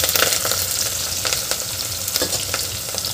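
Chopped onion with curry leaves and green chilli sautéing in a hot pan for masale bhat, a steady loud sizzle broken by a few sharp spatula scrapes and stirs, with no talking.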